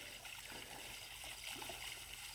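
Water being pumped out of a backyard pond into a 5-gallon bucket filled with filter media, a steady close trickling and splashing flow that continues evenly throughout.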